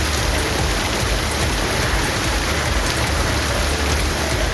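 Heavy rain pours down steadily in the Krishnagiri area, a loud, dense and continuous hiss of downpour with no pauses and no voices.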